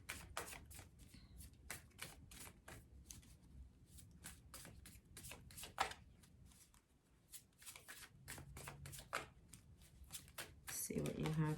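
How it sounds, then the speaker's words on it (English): Chakra Wisdom oracle cards shuffled by hand, a quick series of close, crisp card flicks and slaps in uneven bursts, quiet and with no talking until a brief sound at the end. "I'm going to pull one last card for you, Pisces, for the Chakra Wisdom cards."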